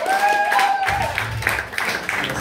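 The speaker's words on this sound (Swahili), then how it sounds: "Pigia makofi mazuri jamani." A church congregation at a Vision and Victory in Jesus Christ Church service applauds an artist. The clapping is dense and fairly loud, coming in after a brief vocal tone and continuing steadily.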